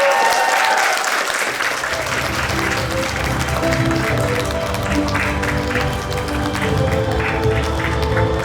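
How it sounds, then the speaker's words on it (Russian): Loud, sustained applause from an audience at a college awards ceremony, a thick continuous rush of clapping with music swelling underneath as it goes on. "Вот эти бурные аплодисменты мы вручаем Султану."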